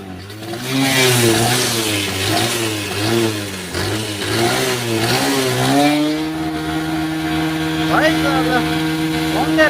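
A car engine stalled by heavy rain idles and revs up and down in repeated surges, loud and close, then settles into a steady drone; a few faint chirps at the end.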